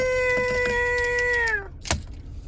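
A cat gives a drawn-out, tonal meow that slides down at the end, heard close and fairly quiet, followed by a soft knock or thump.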